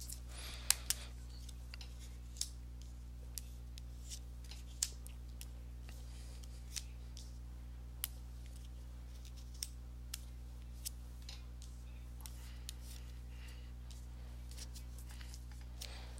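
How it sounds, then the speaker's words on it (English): Soft tarot card shuffling, a steady series of quick crisp snaps and riffles over a low constant hum, no voices. "let me go ahead and give these cards a shuffle"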